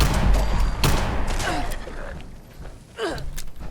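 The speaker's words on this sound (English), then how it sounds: "It fires real fast because I put the hair trigger receiver instead of like the hardened or severe," Fallout 76 weapon fitted with a hair trigger receiver fires in a loud, fast burst at the start. Scattered shots and thuds follow, with a further burst near the end.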